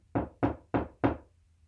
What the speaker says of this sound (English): Can you make a knocking like this?